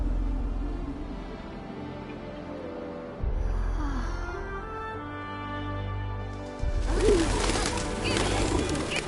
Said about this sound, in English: Ah, pigeons!